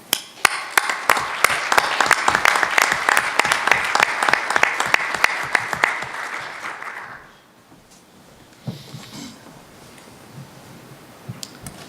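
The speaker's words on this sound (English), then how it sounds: "I would like to invite you all to give a special applause for this work" Applause from a conference audience at a plenary session, with crisp individual claps rising loud for about seven seconds before cutting off to near silence with faint room noise and a few stray sounds.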